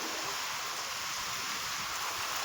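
Heavy downpour falling steadily in a farming village, a dense, even wash of rain noise with no breaks, moderately loud and with no voices.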